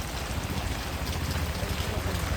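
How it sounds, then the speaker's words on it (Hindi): Rain falls steadily in Mumbai, a close, dense, even wash of water noise filling the whole stretch without breaks, with no voices. "बारिश में कैसे भागूँ, पूरे शूज़ मेरे ऑलरेडी गंदे हो चुके हैं"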